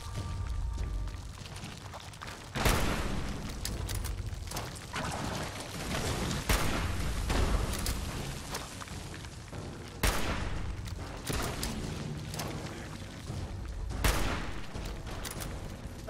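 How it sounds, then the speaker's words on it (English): Plasma grenades detonating in Fallout 4 on survival difficulty, several sharp bursts a few seconds apart over a steady roar of combat and gunfire, with no talking. "new plasma grenades are awesome"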